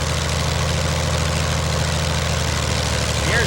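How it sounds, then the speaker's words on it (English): A carbureted Allison V-12 World War II fighter plane engine fitted in a race car idles steadily nearby, a loud, dense low drone with an even pulsing rumble throughout. "You're looking at history, an Allison V-12 fighter plane engine."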